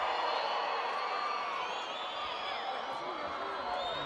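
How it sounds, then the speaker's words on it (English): Arena crowd at a women's field hockey Champions Trophy semi-final between the Netherlands and Argentina, a dense, steady roar of disapproving voices and whistles sustained throughout, loud and close, with commentary running over it. "And the crowd don't like that one."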